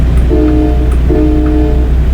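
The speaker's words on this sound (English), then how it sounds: "train horn." Two long blasts of a loud train horn mounted on a Freightliner semi truck, each held about three-quarters of a second, over a steady rumbling background with no voices.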